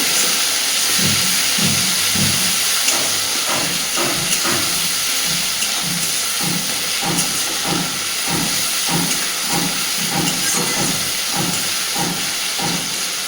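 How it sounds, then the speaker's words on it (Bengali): Chopped onions and tomatoes fry in a pan under a loud, continuous hiss, with a steady series of rhythmic scraping strokes from the stirring, close by and without talk. "খুব ভালোভাবে এবার নাড়াচাড়া করে সব কিছুকে একটু ভেজে নেব।"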